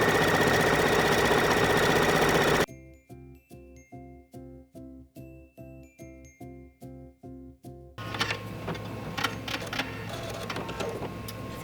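A sewing machine, used without a serger, stitches the side seam of a bathing suit bottom in a series of short, evenly spaced bursts of rapid needle clatter between louder stretches of noise.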